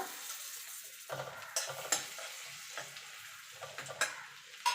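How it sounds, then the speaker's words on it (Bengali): Chopped ginger and garlic sizzle in a pan for chicken soup, with a steady frying hiss and several sharp stirring scrapes and clinks throughout, close and moderately quiet. "এখানে আদা আর রসুনটা কুচিয়ে রেখেছিলাম সেটা দিয়ে দেব"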